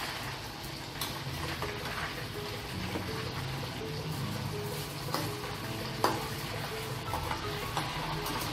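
Pork frying in a pan, a steady close hiss and crackle of sizzling fat running throughout, with occasional clinks and stirring scrapes and no voices.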